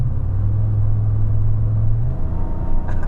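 A Ford F-150 pickup with a 3.5L EcoBoost engine pulls away at roughly half throttle, giving a steady low engine rumble and drone from inside the cab that eases off near the end.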